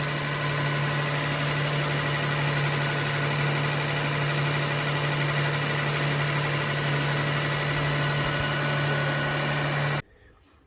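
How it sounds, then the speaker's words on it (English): A 2000 Toyota Sienna minivan engine idling after a coolant refill, with a steady low hum and faint vibration, running evenly for about ten seconds before cutting off abruptly. "You see some more air escaping down there as the engine is just idling."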